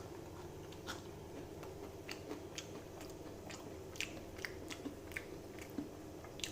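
Quiet, close chewing and crunching of deep-fried molten chocolate in batter, with soft crisp bites scattered over low steady background noise.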